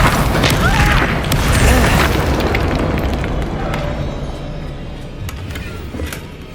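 A spell blast goes off in Hogwarts Legacy combat, a loud booming explosion with a broad rumbling roar that slowly fades over several seconds amid game noise.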